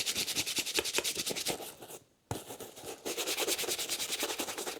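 Brisk, rhythmic brushing strokes on leather shoes after an Edwardian-style banana shoe blacking, close and fairly quiet, with a brief pause in the middle before the scrubbing resumes.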